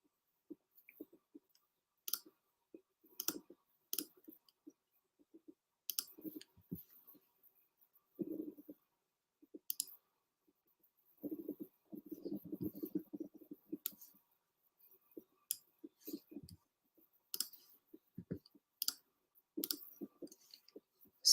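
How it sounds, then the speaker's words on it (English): Computer mouse clicks, quiet and close, coming in scattered single taps and rapid clustered bursts over a long stretch with no talk. "So much clicking."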